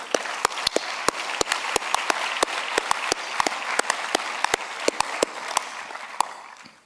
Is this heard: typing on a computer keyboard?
no